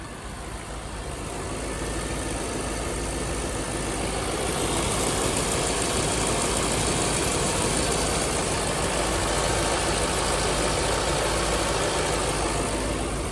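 A 2003 Chevrolet Corvette convertible's 5.7 liter V8 idling, heard close up near the belts as a steady, even engine hum with a broad whooshing wash that swells slightly and then holds.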